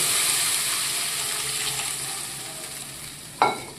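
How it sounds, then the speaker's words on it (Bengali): Oil and water are added to fried spice paste for a sarpunti fish curry, raising a strong, steady sizzle that slowly fades, broken by one sharp clink of a utensil near the end. "মশলাটা ভাজা হয়ে গেছে, আমি তেল দিয়ে দিচ্ছি, জল দিয়ে দিচ্ছি"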